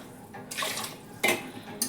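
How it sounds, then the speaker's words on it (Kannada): Water is poured over cut potatoes in a pressure cooker in two short splashing bursts, close and moderately loud, with a quiet gap between them. No one speaks. "ಇದಕ್ಕೆ ಸ್ವಲ್ಪ ನೀರು ಹಾಕಬೇಕು."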